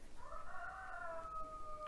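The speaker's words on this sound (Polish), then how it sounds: "Słyszycie pewnie koguta bardzo dobrze" A rooster crows once in the distance, a drawn-out, fairly faint call over quiet background.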